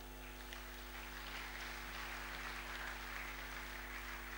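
A church congregation claps and cheers in praise, a sustained, even wash of applause that sounds distant and faint over a steady low hum, with no clear speech.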